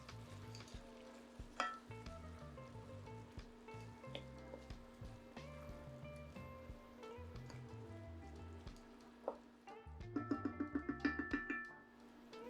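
Saltfish being stirred into ackee in a pot, a faint steady simmering sizzle with soft scrapes of the spoon, growing a little busier with bubbling and clinks toward the end, no talking.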